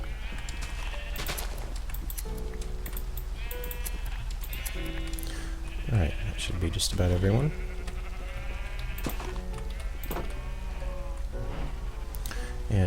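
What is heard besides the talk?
sheep bleating in the video game Minecraft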